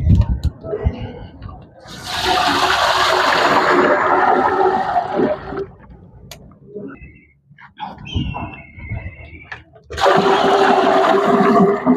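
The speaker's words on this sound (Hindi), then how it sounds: "अभी इसमें पानी डालूंगा।" Water gushes loudly into a large cooking pot set over a wood fire outdoors for zarda rice, in two long rushing bursts with a quieter gap between them, accompanied by scattered clatter.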